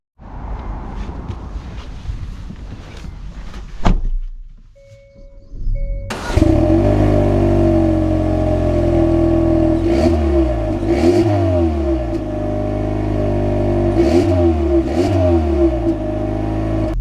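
A 2024 Hyundai Sonata N-Line starts after a brief quiet spell, then its engine pulls hard and loud, rising and dropping in pitch through several upshifts as the car accelerates, with no talking.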